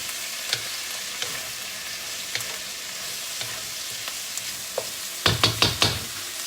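Chop suey fries in a pan under a low, steady sizzle, with occasional light scrapes from stirring. A quick run of louder clatters comes near the end.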